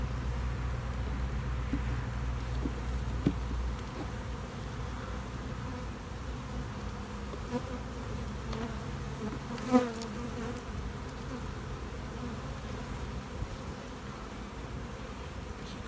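Honeybees buzz steadily in an overwintered nuc, a dense continuous hum from many insects close by, with a few brief clicks and knocks of handling but no talk.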